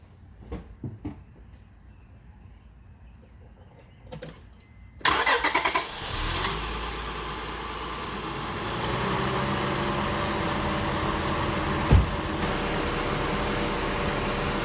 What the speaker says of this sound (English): now I can start the vehicles and the AC